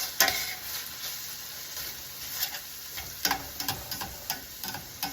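Short rib pieces reheat in a pan for chow mein, a soft sizzle with irregular clicks and scrapes of stirring, fairly quiet and close.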